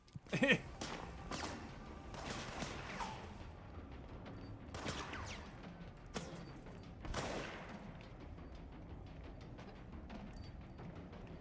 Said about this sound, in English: I also hear gunshots.